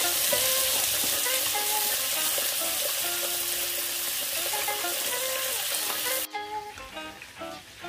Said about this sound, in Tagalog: Isa na natin yung bawang at sibuyas.